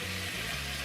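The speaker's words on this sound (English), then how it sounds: "You can hear it starting to sizzle." Bacon starting to sizzle in a chili pot that is still heating up, a soft, steady crackling hiss with a low hum beneath, brief and fairly quiet.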